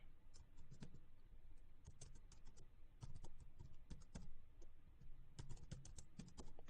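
Quiet, steady typing on a computer keyboard, with rapid clusters of close key clicks separated by brief pauses throughout.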